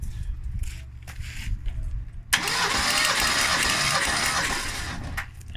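A 1981 Ford Mustang inline-six cranks over for a compression test: after quieter background noise, the starter kicks in abruptly and churns steadily for about three seconds with a rhythmic pulse, then cuts off.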